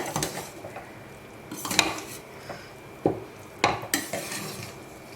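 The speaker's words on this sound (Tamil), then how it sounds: "நல்லா இந்த மாதிரி மிக்ஸ் பண்ணி விடணும்." Chettinad vegetable biryani being mixed in a pot, with a spoon scraping and clanking against the metal in a few sharp strikes amid softer stirring and rustling of rice, close and moderately loud, no talking.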